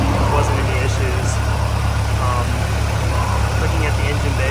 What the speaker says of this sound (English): Alright, the engine running video.